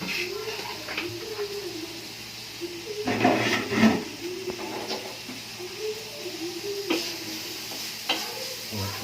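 Onion frying in a pan at the start of a pork shepherd's pie, with a steady low sizzle under scraping stirs and a few louder clanks around the middle; faint speech-like sounds sit in the background.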